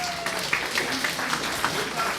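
An audience in a packed hall claps together, a rough, uneven burst of applause with louder patches, and a voice seems to rise briefly through the noise.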